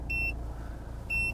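Two short electronic beeps, one near the start and one near the end, from a performance measuring device being switched on inside a Nissan X-Trail 2.0 dCi, over a low steady cabin rumble.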